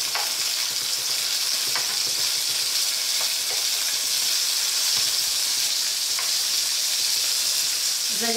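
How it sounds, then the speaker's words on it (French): Beef pieces browning for a carrot beef stew, sizzling and frying steadily in a pan, with a continuous loud hiss and occasional stirring clicks, no talking. "vous faites juste un peu dorer vos morceaux de bœuf"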